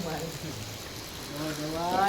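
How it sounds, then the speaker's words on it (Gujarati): Steady rain falls throughout, a continuous wash of patter that stays fairly loud and even, with faint voices and tonal sounds murmuring underneath. "આ વરસાદ આવ્યો"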